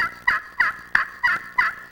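Friction turkey call worked with a hickory peg striker to mimic a hen, six quick sharp yelps in a steady rhythm, loud and close with no talking.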